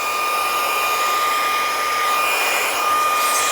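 Fanttik B8 ACE brushless mini blower running on its second speed setting, a loud, steady whine with a high tonal hum that holds continuously and alone throughout.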